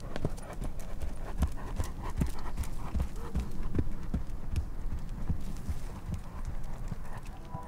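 Horse hooves beat a steady, rhythmic clip-clop during dressage riding, moderately close over a soft ambient hum, with no voices.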